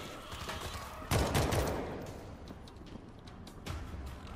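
Gunfire from the World War Z video game, a burst of shots crackling at moderate loudness over a noisy background, followed by a few scattered fainter reports.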